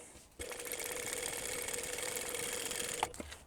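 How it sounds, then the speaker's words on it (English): A sewing machine runs steadily for about three seconds, top stitching along the edge of a tote bag, with a smooth continuous whir that stops abruptly, close and alone. "we want to top stitch along that edge"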